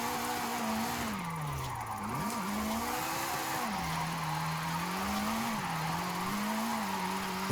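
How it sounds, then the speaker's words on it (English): Toyota GR86 fitted with a Ferrari 458 V8 drifting in Forza Horizon 5, the engine holding a steady high-revving drone with wavering pitch as the throttle is modulated, mixed with tire squeal, loud and continuous. "This engine's so good though. This 458 V8 is so good. Revs really high. Sounds good."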